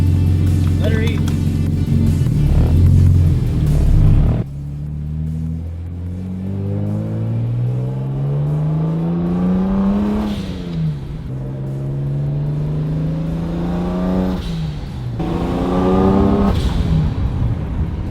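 A single-turbo BMW 335i accelerates hard with the boost turned up, its engine loudly climbing through repeated rising revs and gear changes, a sharp drop near the start, while people talk over it.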